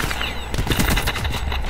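Rapid bursts of automatic gunfire from an online shooter video game, sharp repeated cracks firing in quick succession, loud and continuous across the short stretch with no talk.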